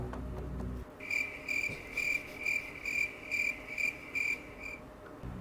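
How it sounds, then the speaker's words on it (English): Crickets chirp in steady, evenly spaced pulsing trills, fairly close and clear, with no one talking over them after a brief low rumble at the start. "So, editor, you can put that cricket sound there."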